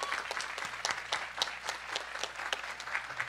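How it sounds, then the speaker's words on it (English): Audience applause at a high school career center senior awards ceremony, steady clapping from a crowd in a hall, moderately loud and continuous with no talking over it. "We can clap for you guys"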